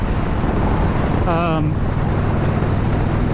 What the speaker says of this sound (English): at least my helmet noise right now with the wind